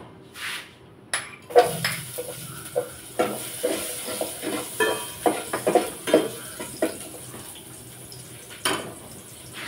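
Ginger sizzling in hot oil in a pan, heard as soft crackling with scattered stirring clinks and scrapes, moderately close and fairly quiet.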